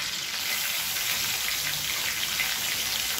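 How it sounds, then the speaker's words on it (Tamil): Ground green chili, ginger and garlic paste sizzles as it sautés in hot oil with curry leaves. The frying crackles and hisses steadily at a soft level, with no talking. "இதை நல்லா எண்ணெயில் வதக்கிக்கலாம்."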